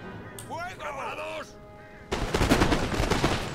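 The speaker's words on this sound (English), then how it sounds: "get my conventional colonial line doing fire by rank" Musket volleys fired by rank in the strategy game Empire Total War, a dense crackling burst of shots from a colonial line breaking out after a stretch of other game sounds, fairly close and loud.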